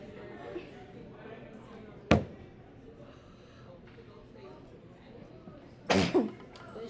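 Two sharp, sudden sneezes burst out a few seconds apart over quiet background murmur, close and loud.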